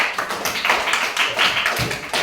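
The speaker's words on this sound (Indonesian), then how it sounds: "Tepuk tangan untuk Ibu B." Classroom applause for a student, a short burst of quick, light clapping from a small group, close by and uneven, lasting only a couple of seconds with no talking.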